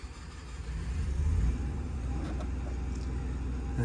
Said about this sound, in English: You got your generator, hold the start button down.